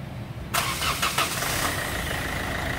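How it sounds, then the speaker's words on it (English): A diesel car engine with glow plugs cranks and catches after a brief starter whir, then settles into a steady, loud, close idle with no talk. "I'm going to start the car now"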